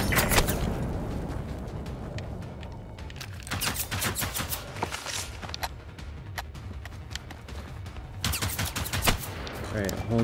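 Gunfire in the video game Generation Zero, with repeated shots and bursts running through a busy, noisy game scene alongside other action sounds, fairly loud and steady throughout.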